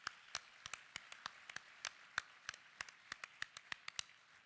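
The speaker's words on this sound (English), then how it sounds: "How about one more round of applause for Alicia Cooper, Miss Washington 2016." Sparse, quiet clapping from a small group at the 2017 Savoring Excellence celebration honors Alicia Cooper, Miss Washington 2016. The claps are distinct and evenly spaced, with no cheering.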